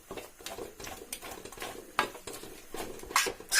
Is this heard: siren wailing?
no